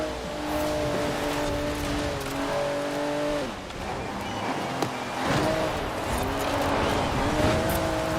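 A 1991 GMC Syclone in Forza Horizon 4 drives with a steady engine drone that shifts pitch through gear changes, accompanied by tire noise and faint music.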